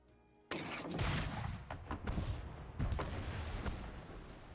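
Cannon shot fired at a dragon in a fantasy game scene, a sudden loud blast followed by several seconds of rumbling, crackling booms and scattered reports, with no talk over it.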